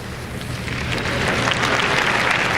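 A large audience at the 1994 World Cup draw ceremony applauds steadily, dense clapping from a big hall that swells slightly and holds for the full stretch with no voices on top.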